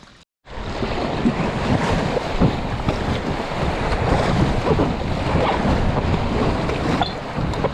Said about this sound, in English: Once again, I've hit some rapids.